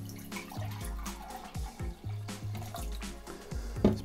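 Water pours from a bottle into a container during an ocean acidification demonstration, a close, continuous glugging and splashing stream with gurgling pulses and no talking.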